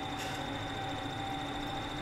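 Tractor engine in the video game Farming Simulator 17, a steady low drone with faint tonal whine, even and continuous without people talking.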